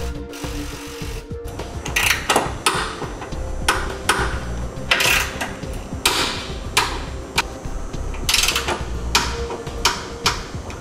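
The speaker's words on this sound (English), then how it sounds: "we can go ahead and tighten them down and torque them to specification as indicated in the instructions" A wrench tightens the fasteners on a passenger-side base plate bracket of a 2010 Chevrolet, giving a run of sharp, rhythmic clicks and knocks in bursts, close and fairly loud.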